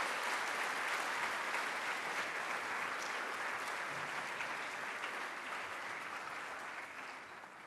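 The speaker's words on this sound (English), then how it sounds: "if we could give a round of applause again to all the overtones on the board here." An audience at a school event giving a sustained round of applause, a dense wash of clapping that holds steady for several seconds and then gradually fades.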